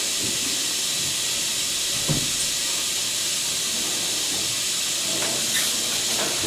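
A Semitool 870-S spin rinse dryer runs with its motor on and rinsing, giving a continuous loud spray-like hiss over a low hum, with faint brief knocks.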